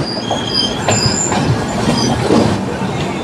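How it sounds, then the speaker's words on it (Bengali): A Humsafar Express pulling into Krishnanagar City Junction, loud and close, with a continuous rolling rumble of wagons, rhythmic wheel clatter and thin high-pitched squeals from the wheels throughout. "ট্রেন ঢুকছে কৃষ্ণনগর সিটি জাংশন"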